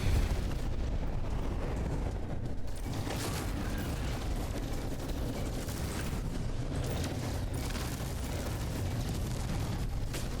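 Spaceship weapons fire in No Man's Sky as a dense, continuous mechanical rattle with clanking bursts and a rumbling roar. The barrage stays steady and loud throughout, with no voices.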